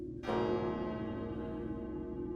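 A single church bell is struck once and its tone rings on, slowly decaying, loud and close over a low background hum.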